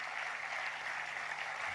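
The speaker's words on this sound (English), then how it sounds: "Round of applause for her," An audience at an award ceremony applauds as the Arjuna awardee hockey goalkeeper Savita is called up, a dense, even wash of clapping heard from a distance without speech.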